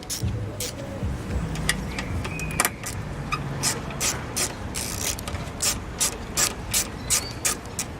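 A ratchet wrench loosens 3/8 bolts on a Craftsman lawnmower, giving close, rhythmic clicking strokes that repeat steadily, with faint background noise.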